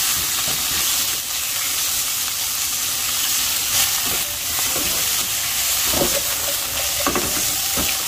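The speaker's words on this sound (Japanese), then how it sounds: "お肉とニンニク入れてね、炒めていきます。" Meat and garlic stir-frying in a hot pan for yakisoba, a continuous loud sizzle with scattered scraping and stirring knocks from a utensil, close up and without voices.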